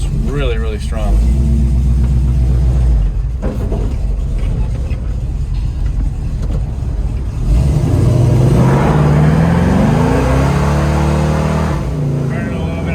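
A 1972 Chevrolet Chevelle SS V8 roars close and loud as it accelerates hard through rising revs, with a voice talking over the rumble.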